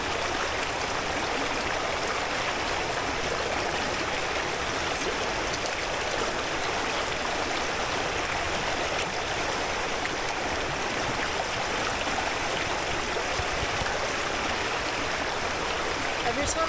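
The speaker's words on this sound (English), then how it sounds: "I've just come to a moving water source to fill up my water." Stream water rushing steadily over rocks on the Ribbon Creek Trail, a continuous close hiss and babble with no breaks.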